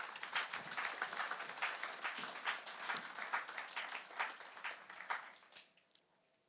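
A church congregation claps during an online worship service, a steady round of applause that thins into a few scattered claps before falling silent.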